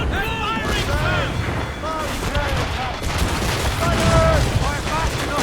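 Broadside cannon fire from a sailing warship in Assassin's Creed Rogue, a dense, continuous barrage of booms and gunfire during a naval battle, with shouting crew voices laid over it throughout.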